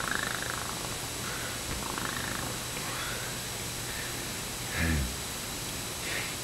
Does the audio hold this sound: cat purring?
yes